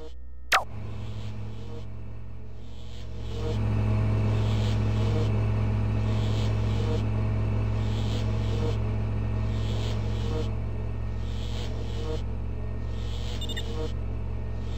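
A truck unit in the strategy game Warzone 2100 drives with a steady low engine rumble and hum that swells after a brief click and holds constant, loud and close, with no talking.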